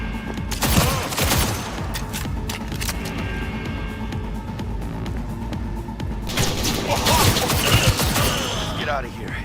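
Gunfire in the Cyberpunk 2077 video game: dense bursts of rapid shots and crackling impacts around the start and again near the end, loud and close, with a mechanical clatter between the volleys.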